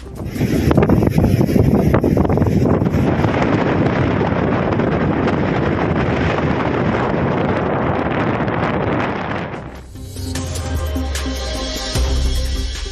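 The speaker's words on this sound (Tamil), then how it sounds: "புயல் எதிரொலியால் கடலோர பகுதிகளிலும் பலத்த தரைக்காற்று வீசுகிறது." Strong cyclone winds buffet a coastal area, a loud continuous roar of gusts battering the microphone, easing briefly near the end before picking up again.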